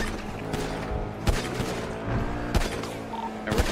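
Gunfire in a GTA V roleplay (NoPixel) game session: a dense, ongoing volley with sharper shots standing out roughly every second, mid-distance and fairly loud.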